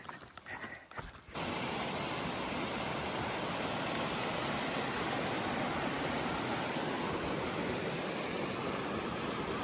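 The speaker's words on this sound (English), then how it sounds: "that water is from glacial melt from Mount Thiessen" A strong, continuous rush of fast-flowing glacial meltwater from Mount Thielsen fills the air, steady and close, after a brief quieter moment at the start, on the Pacific Crest Trail.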